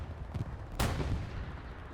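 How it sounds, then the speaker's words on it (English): A Tiger tank fires a single main-gun shot in the video game Hell Let Loose: one sharp, heavy boom with a rumbling low tail, over constant battlefield rumble. "Tiger takes one shot."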